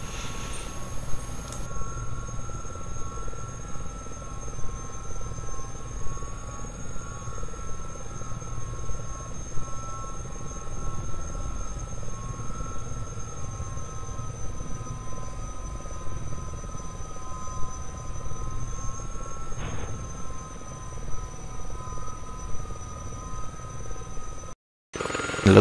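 A Gazelle helicopter comes in to land on an elevated platform in the Okavango Delta, its turbine whine and rotor drone holding steady and close throughout, with a brief pause near the end.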